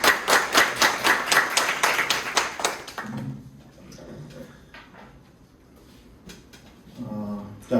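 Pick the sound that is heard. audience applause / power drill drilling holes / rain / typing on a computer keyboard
audience applause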